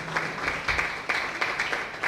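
A conference audience gives a speaker a second round of applause, steady, fairly close clapping from many hands with a few sharper individual claps standing out.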